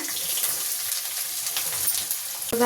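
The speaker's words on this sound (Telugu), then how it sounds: "ఒక స్పూను ఆవాల జీలకర్ర వేస్తున్నా అవి ఫ్రై అయిపోయాక ఈ కాకరకాయ మొత్తం వేసేస్తున్నా" Mustard seeds and cumin, then bitter gourd, fry in hot oil, making a steady crackling hiss that fills the space close up, with a soft knock near the end.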